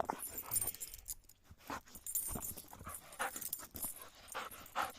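A stray dog pants in quick, breathy bursts close by, with a faint jingle and a soft whimper mixed in among the uneven rhythm. No one speaks.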